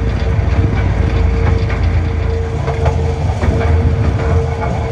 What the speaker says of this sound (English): So we're just running along the straight now down to Willow Lawn, currently doing about 8 mile an hour.